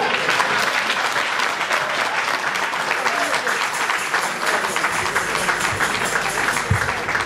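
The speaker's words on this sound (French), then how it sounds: "On applaudit encore pour le président national de la Paris." A crowd at a book conference and signing in London applauds loudly and continuously, a thick sustained roar of clapping that holds steady throughout.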